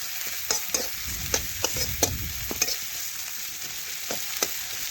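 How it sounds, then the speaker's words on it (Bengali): Onions sizzle steadily in a hot pan while a utensil scrapes and stirs in irregular clicks and knocks, close up, as they fry to reddish brown for a catla fish curry. "পেঁয়াজটা কিন্তু লাল লাল ভাজা হয়ে গেছে"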